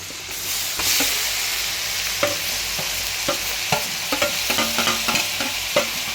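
Onion and tomato frying with cumin in a pan give a steady close sizzle, broken by several sharp clinks and scrapes of a spoon stirring against the pan.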